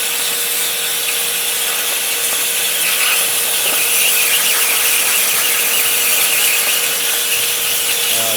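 A Langmuir Crossfire plasma table cuts through metal, a loud, steady hiss and squeal running without break for several seconds, with a constant high whine over crackling noise.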